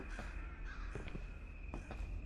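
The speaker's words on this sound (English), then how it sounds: "Maybe like crows, actually." Crows caw in the video game Everyday Devil, several harsh calls spaced across a few seconds, fairly faint and set against a steady ambient background.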